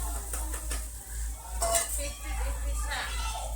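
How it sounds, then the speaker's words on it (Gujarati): Vegetables tempered in hot oil and stirred in a pan at home, with a continuous sizzle, scraping and the clink of a spoon against metal under a steady low hum, people talking nearby. "મમ્મીએ શાક વઘારી દીધું."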